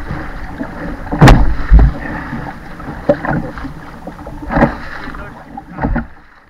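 Large waves on Lake Superior slap and surge around a canoe, with irregular loud splashes and thumps against the hull amid wind noise.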